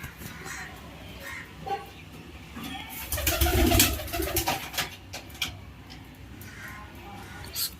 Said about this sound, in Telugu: ప్రెజెంట్ ఇంక ఫ్లై చేయనివి ఈ బర్డ్స్ మాత్రమే ఉన్నాయి.